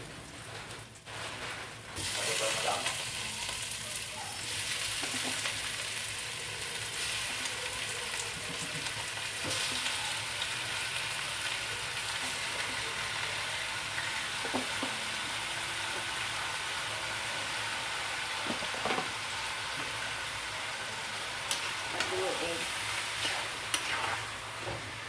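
Pork frying in a pan for Filipino menudo: a close, loud, steady sizzle runs unbroken throughout, with occasional soft clinks and stirring scrapes.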